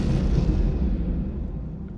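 A loud, sustained blast of low rumbling noise that slowly fades, a big video game explosion with a long decaying roar.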